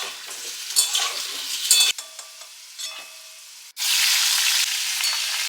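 Cumin, dried chili and bay leaf tempering hitting hot oil, a bright sizzle with stirring scrapes that dies down, then a loud sustained hiss as more goes into the pan.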